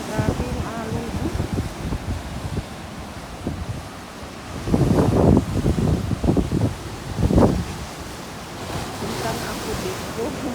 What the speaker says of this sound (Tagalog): Grabe yung alon, oh.